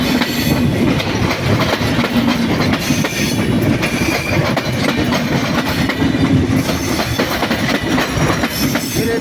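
A train rolls steadily through a railway junction, changing from a straight line onto tracks curving left, with a loud, continuous rumble and rhythmic wheel clatter over the rails throughout.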